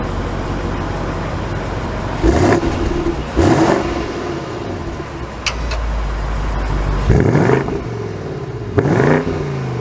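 A 2022 BMW 750i xDrive drives off, a steady engine hum with several revving surges as it accelerates, heard from inside the car.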